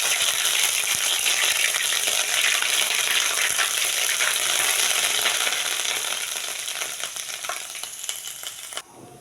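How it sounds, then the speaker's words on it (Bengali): Ginger garlic paste sizzles and spatters steadily in hot oil, a dense crackling hiss that holds strong for most of the stretch before easing off near the end. "এই তেলেই দিয়ে দেব আমি আদা রসুন আমি পেস্ট করে রেখেছিলাম, এটাই দিয়ে দেবো।"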